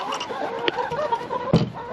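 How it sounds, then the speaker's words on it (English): Laying hens cluck softly inside a backyard coop, a few short calls rising over low farm background noise, with a person speaking briefly nearby. "we got such good chickens"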